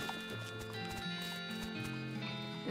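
Horse whinny and clip-clopping hooves in the western comedy video game West of Loathing, running steadily under harmonic background music throughout.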